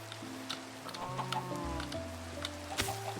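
Minecraft chicken clucking in short repeated bursts, fairly close, over a steady bed of in-game rain and ambient sound.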